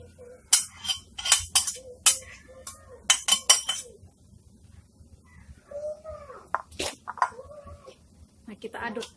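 A metal utensil clinks and scrapes against a pan while pounded fish is stirred in for fried rice: a cluster of sharp, bright taps and clatters, close by, with a person speaking briefly between them.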